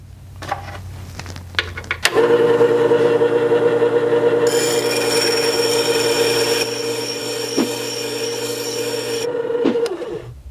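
A 1-inch chisel back being flattened on P120 grit abrasive, a steady loud rasping scrape with a high whine that holds for several seconds after a sharp start, with no talk over it.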